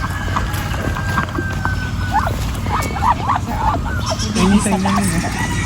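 Ducks quack in a noisy group outdoors, a busy run of calls over steady background hum, with a few louder honking calls near the end.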